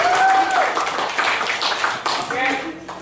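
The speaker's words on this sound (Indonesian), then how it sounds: "Beri tepuk tangan untuk kelas 11 IPS" Students in a high school class clapping together, a few seconds of fairly close, brisk claps with a voice and room noise mixed in.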